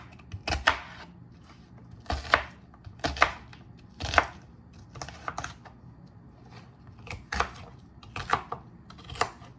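Knife rough-chopping an onion on a cutting board, a series of crisp close thuds in an uneven rhythm with short gaps, alone without talk.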